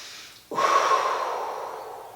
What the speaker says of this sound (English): Breathe, big deep breath.